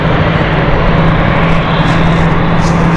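A KLM airliner on final approach into London City Airport on a stormy night gives a loud, steady engine drone with a low tonal hum, continuous and close, with no voices.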